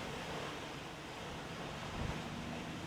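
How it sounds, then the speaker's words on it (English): Ocean surf washes onto a beach under a steady wind, a faint continuous hiss and rumble with a soft low swell near the end and no talking. "Hopefully you can hear the sounds of the waves, a little bit of the wind on this beautiful day."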